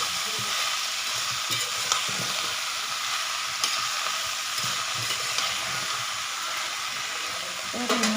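Chopped greens fry in a pan while being tossed and stirred, a steady sizzling hiss with irregular scraping taps of the spatula running throughout.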